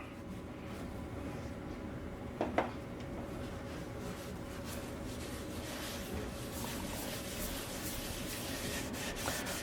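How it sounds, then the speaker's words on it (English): Yorkshire Grit abrasive paste rubbed by hand into the interior of a spalted, crotch-figured maple bowl, a soft steady scrubbing hiss with faint friction squeaks and one brief louder squeal. "I'm going to apply some Yorkshire grit to the interior of this bowl"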